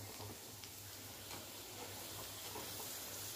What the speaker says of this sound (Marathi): हे बघा अशा पद्धतीनं तळून घ्यायचं, म्हणजे सगळ्या बाजूने तळल्या जातील.